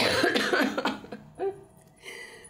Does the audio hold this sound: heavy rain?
no